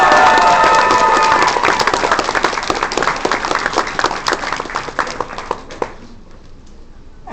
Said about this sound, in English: Can we have a round of applause for our con chair?